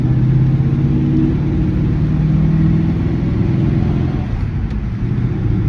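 A 1950 Ford F-1 truck accelerates through its gears from inside the cab, with a loud, steady mid-pitched engine drone and rumble that shifts subtly in tone as it pulls away.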